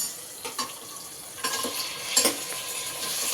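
Marinated mutton bones, coated with ginger-garlic paste and pepper, going into a hot pan for soup make a close, steady sizzle, broken by a few clinks and scrapes of a utensil against the pan.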